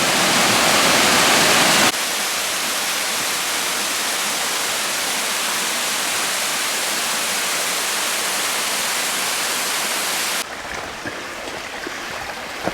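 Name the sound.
waterfall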